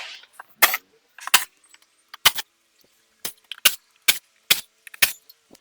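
Eight bolts come off the engine cover of a blown Cummins ISB 6.7 diesel with an 8mm socket. Sharp, separate metallic clicks and rattles ring out one by one in quick succession, close and fairly loud, with silence between them.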